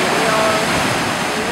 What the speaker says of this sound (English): When the waves go out,